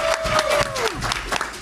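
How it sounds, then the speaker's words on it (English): An audience at a gaming expo panel claps and cheers in a short burst of applause, with a whistle-like tone sliding down early on and a voice faintly underneath. "Clap it up for yourselves."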